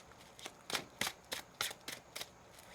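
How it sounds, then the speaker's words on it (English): Tarot cards riffle-shuffled in a quiet room, about seven crisp bursts of papery flutter in a steady rhythm, close and clear with no talk. "One more shuffle."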